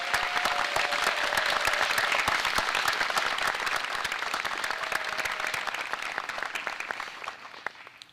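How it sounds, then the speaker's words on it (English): A school audience claps for Westover School faculty and staff at the outdoor Orchard Ceremony, sustained crisp applause holding strong for several seconds, then thinning and fading out near the end. "Please join me in a round of applause."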